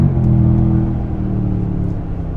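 A 2025 Toyota Tundra TRD Pro with an i-Force Max hybrid drivetrain accelerates with a steady, smooth engine hum and rising whir, heard from inside the cabin with road rumble beneath.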